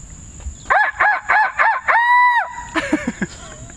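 A chicken calls nearby in a quick run of four short clucks, then one longer drawn-out note, followed by a few rougher clucks over low background noise.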